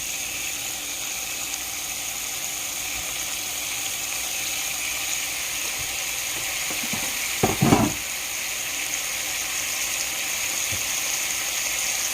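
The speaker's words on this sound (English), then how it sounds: "You hear that sizzle? That's what I want." Pork chops sizzle in a pan, a steady frying hiss filling the clip, with a brief clatter of a utensil against the pan partway through.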